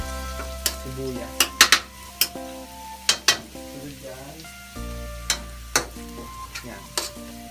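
Garlic browning in cooking oil for chicken-feet adobo, with onion then tipped in: a continuous sizzle broken by sharp spatula clinks and scrapes against the pan over a steady low hum.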